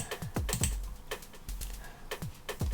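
Computer mouse clicks sound at close range in a quiet room, a series of sharp taps and double clicks in an irregular rhythm, with no talk.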